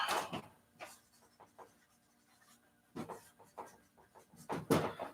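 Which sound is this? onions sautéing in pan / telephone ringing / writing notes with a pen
writing notes with a pen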